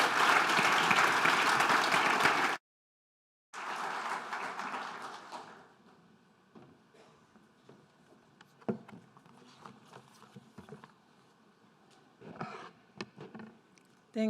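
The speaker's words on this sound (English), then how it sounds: "Let's give her a round of applause." A conference crowd at the World Circular Economy Forum 2022 opening applauds steadily for a couple of seconds, breaks off, resumes more softly, then thins into scattered claps and room noise.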